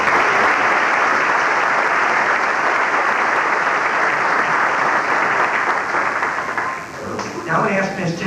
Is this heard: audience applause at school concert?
yes